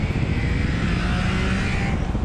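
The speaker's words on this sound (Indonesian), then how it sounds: "Tapi yang satu ini suara knalpotnya jelas gak kalah merdu." A Honda CBX six-cylinder motorcycle sings through its exhaust, a loud, sustained high-revving howl holding a steady smooth pitch for a couple of seconds, close by and without speech.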